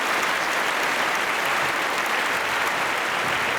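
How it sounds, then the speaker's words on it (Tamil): A studio audience on a Tamil TV family game show breaks into steady, loud applause that stays even throughout, with no talk over it. "நிச்சயமா உங்களுக்கு நம்ம கரகோஷத்தை கொடுப்போம்"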